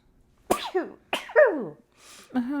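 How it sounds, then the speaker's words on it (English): A person gives a few breathy, wheezing build-up gasps and then a sharp sneeze-like burst, close and clear in a quiet room. "warm up sneeze. I feel it brewing."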